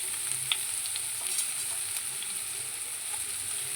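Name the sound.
sautéing onion, ginger and curry leaves in oil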